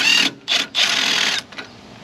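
An impact or power tool with a 15 mm socket undoes the strut bolts on a 2015 Tahoe, giving short high buzzing whirrs in three bursts, close and fairly loud.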